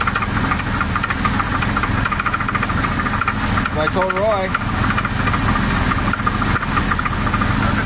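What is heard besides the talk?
Chevy S10 4x4 engine idling with rod knock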